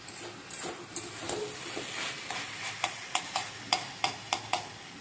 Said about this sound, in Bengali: এবার ভাজা ভাজা করে আমি নামিয়ে নেব।